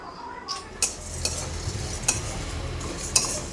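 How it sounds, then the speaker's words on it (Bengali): Puffed rice is dry-fried in a wok (kadai), a low crackling hiss broken by several sharp spatula scrapes against the metal at irregular intervals. "এখানে মুড়ি ভাজা হচ্ছে"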